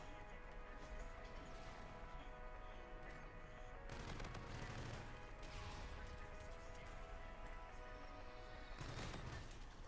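Rapid-fire weapon in a video game shooting in dense, continuous bursts with louder volleys near the four- and nine-second marks, faint and steady under game ambience with no talk.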